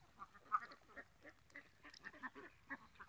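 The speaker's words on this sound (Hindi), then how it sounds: "ये देख लीजिए हमारा बत्तख फार्म है।" Ducks quacking on a duck farm, a flock giving many short overlapping quacks in irregular bursts, moderately near but fairly soft against a quiet background.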